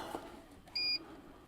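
A power inverter gives one short, clear electronic beep as it is switched on, standing alone against faint background noise.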